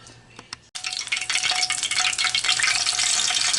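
Plantains for tostones drop into hot oil in a deep pot and burst into a loud, steady, crackling sizzle that holds to the end, after a few faint clinks.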